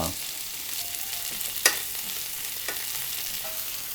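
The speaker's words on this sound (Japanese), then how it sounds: "こっちも 焼いていって、でこのニンニクも フォークとかでちょっと 潰しながら" Steak and garlic searing together in a pan as the garlic is pressed with a fork, a quiet continuous sizzle with a couple of brief clicks, close by and without talk.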